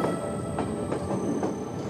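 A commuter train running on rails toward Zagreb from Novska in 1993 gives a steady, close rumbling roar with faint rhythmic clacks recurring about every half second.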